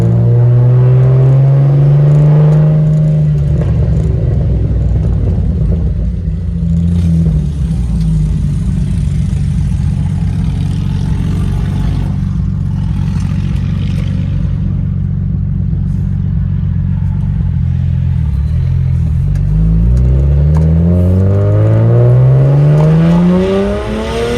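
A loud, modified single-turbo BMW 135i convertible with an N54 engine idles and revs close by, its deep throaty drone rising and falling, with a sharp rev climbing near the end.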